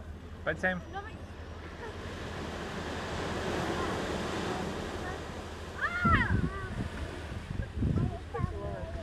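Ocean waves washing onto a beach in Tenerife, a steady surf swell with wind in the background, while people speak briefly in short bursts near the end.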